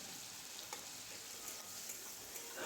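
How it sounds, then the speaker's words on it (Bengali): Chopped tomatoes fry in a pan for fish curry with a soft, faint sizzle and light crackle, quiet and steady, rising briefly at the very end. "প্রথমে টমেটোগুলো আমরা ভালো করে এটাকে ভেজে নিচ্ছি"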